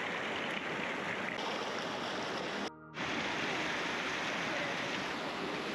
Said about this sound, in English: Just filled up with water here on this stream.